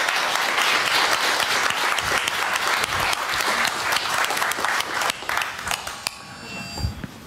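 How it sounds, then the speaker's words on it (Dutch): Warm, sustained audience applause for speaker Casper van der Veen at a talk about North Korea, a dense, loud wash of many hands that thins toward the end. "En geef hem een warm applaus"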